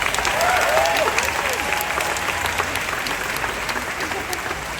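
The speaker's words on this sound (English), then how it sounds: "give them that round of applause" A large outdoor crowd at a Disney's Hollywood Studios anniversary ceremony applauds loudly and continuously, with cheers and whoops rising over the clapping early on.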